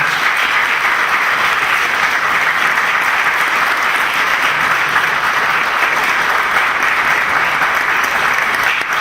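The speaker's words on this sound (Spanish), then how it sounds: "Walter Kisler, y lo recibimos con calurosos aplausos." An audience at a Peruvian history book presentation gives a historian a warm welcome with loud, sustained applause from many hands, steady and unbroken throughout, with no speech over it.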